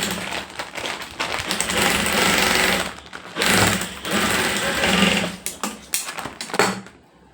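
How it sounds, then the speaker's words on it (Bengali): An electric sewing machine runs in loud, sustained bursts, stitching down the side of a round bag made from woven plastic sacking, with short pauses between runs. "এরপর সাইডটা সেলাই করবো, এরকম"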